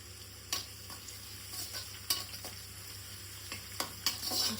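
Ginger, garlic and green chillies frying in oil for street-style egg fried rice, a steady faint sizzle broken by several sharp scraping stirs of a spatula against the pan.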